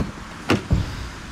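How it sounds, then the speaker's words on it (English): Two quick dull thumps, the bonnet of a new Porsche Panamera 4S Diesel dropping shut and then a car door closing, close by and brief with no talk. "Drop the bonnet back down and jump back in."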